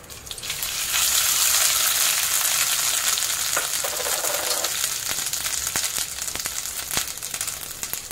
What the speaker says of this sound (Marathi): चांगलं तुपामध्ये असं परतून घ्यायचं।